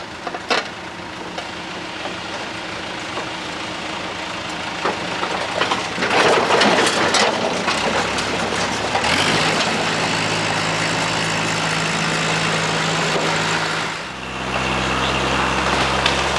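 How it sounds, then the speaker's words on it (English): A big truck that hauls heavy logging equipment between job sites rumbles steadily nearby, a loud continuous engine drone that shifts to a deeper, steadier idle partway through, with no talking. "These big trucks haul the heavy equipment from job to job."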